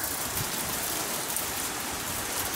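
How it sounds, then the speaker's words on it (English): Hail pelting down outdoors on a cold Sunday afternoon during a fishing trip, a dense, steady hiss of falling ice and drops hitting surfaces, moderately loud and continuous with no talking. "It's hail."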